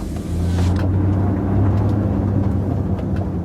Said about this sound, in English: As the car drove away, leaving a cloud of fumes